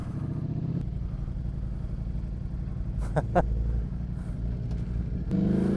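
Motorcycle rumbling steadily along a road at night toward the Lithuanian border, a constant low engine drone with wind noise and a brief vocal sound midway.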